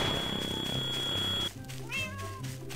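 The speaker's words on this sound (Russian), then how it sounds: "кто-то кота взял с Майнкрафта" Minecraft cat meowing inside Garry's Mod, two short rising mews heard after a steady tonal game hum cuts out, fairly quiet with no talk over them.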